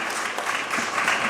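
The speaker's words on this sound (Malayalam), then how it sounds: "ഒരു വലിയ കയ്യടി അദ്ദേഹത്തിനും" An audience at a lecture and farewell gathering for retiring teachers claps together in a steady, moderately loud round of applause.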